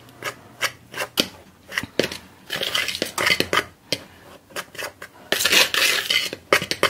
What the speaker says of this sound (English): I'm just going to kind of mix this around with a fork so everything gets